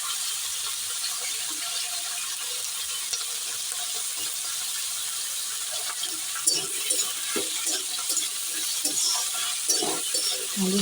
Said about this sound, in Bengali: আলু, সিম আর বেগুনটা একটু ভাজা ভাজা হলে তারপর শাকটা দিয়ে দেবো।